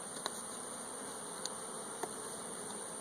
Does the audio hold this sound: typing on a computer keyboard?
no